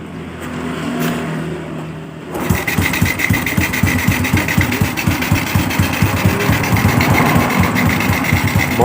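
Honda Revo Absolute motorcycle engine starting up after a quiet stretch, then running with a rapid, even, buzzing putter close by, loud and steady to the end.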